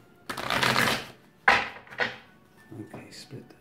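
A deck of cards shuffled by hand: a riffling burst, a sharp snap, then softer riffles and taps, close and clear.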